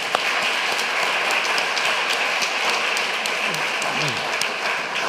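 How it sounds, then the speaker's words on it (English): Scattered clapping from a conference audience, a moderate patter of hands that stays even throughout. "they need a big hand of applause."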